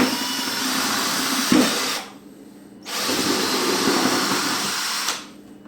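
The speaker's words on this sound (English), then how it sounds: "So now we just hold this in place and we drill our hole" A power drill bores a hole through a bucket for a homemade water filter, whirring loudly in two bursts separated by a brief pause, then spinning down at the end.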